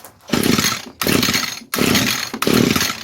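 A 22-year-old ECHO string trimmer, choked after long storage, roars in four loud close bursts of two-stroke engine noise with brief dips between, as it sputters and tries to catch.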